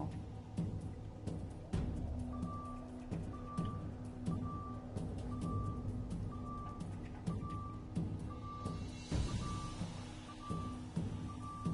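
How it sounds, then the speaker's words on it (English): A countdown timer in the Assassin's Creed Black Flag video game beeps in a steady, evenly spaced series of short electronic tones, about one per second, over a busy bed of in-game ambience. "That countdown timer in these headphones, it sounds like it's coming like live in the room."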